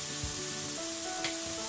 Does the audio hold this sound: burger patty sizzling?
yes